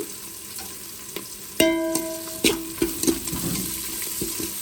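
Onions for shrimp biryani sizzle in hot oil in a pan, a steady frying crackle broken by a few sharp clinks of a spoon against the pan.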